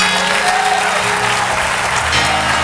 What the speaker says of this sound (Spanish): Si van a aplaudir, aplaudan de una vez.